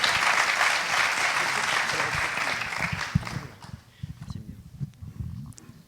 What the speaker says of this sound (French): on peut applaudir Betty au passage